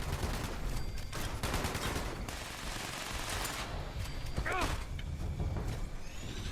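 Gunfire in the video game Fallout 76 comes as scattered, bursty shots and clatter at moderate volume over a busy background, with a faint mechanical creak in the middle.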